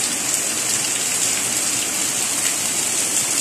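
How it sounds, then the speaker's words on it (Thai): Steady rain falling outdoors, a dense continuous hiss of drops without pause, fairly loud and close, no voices. "ฝนตกอีกแล้วนะคะเพื่อนๆชุ่มฉ่ำจังเลยวันนี้ฝนตก"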